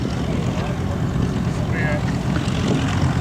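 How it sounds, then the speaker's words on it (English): Boeing B-29 Superfortress "Fifi" of the Commemorative Air Force making a high-speed pass at a 2012 World War II Weekend airshow, a steady, broad, loud roar with deep rumble lasting throughout. "the B-29 called Fifi, coming at you from the right. Coming by in the high-speed pass."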